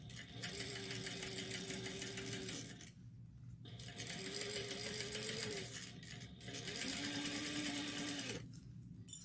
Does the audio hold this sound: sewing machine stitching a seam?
yes